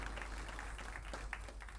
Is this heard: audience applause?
yes